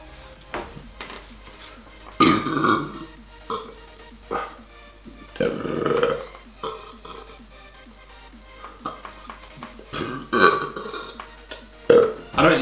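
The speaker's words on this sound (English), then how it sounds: "just want to keep burping" Someone burps repeatedly after eating pizza and fizzy drinks, several loud, close, guttural belches spaced a few seconds apart, with light dish and cutlery clatter between them.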